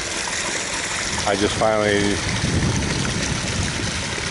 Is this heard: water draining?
yes